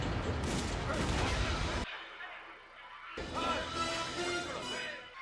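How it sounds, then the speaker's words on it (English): Rocket launcher fire in an episode of the Batman animated series, 'The Cat and the Claw': a loud, dense barrage of blasts and crashes that breaks off briefly, then returns as heavy rumbling explosions. "Rocket launcher."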